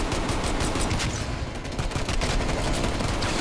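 Dense rapid gunfire in a Call of Duty Cold War prop hunt match, continuous loud bursts of shots packed together for several seconds with no talking.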